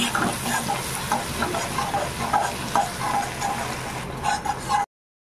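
Ground cumin and coriander masala is sautéed in a pan for a potato dish, with continuous sizzling and repeated light scraping of a spoon against the metal, fairly close and steady until an abrupt stop.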